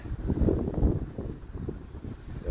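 Gusty wind at an outdoor cricket ground in Canberra, Australia buffets the microphone with a low, rumbling roar that swells and eases over a couple of seconds.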